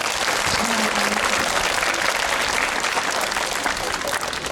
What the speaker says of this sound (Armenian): Ես կխնդրեմ, որ ավելի բարձր ծափահարեք ու ողջունեք։